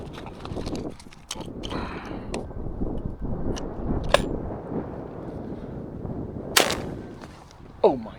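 Several .410 shotgun shots fired at pigeons outdoors ring out as sharp broadband cracks, separated by a few seconds, over a busy background of rustling and low noise, with a voice in places.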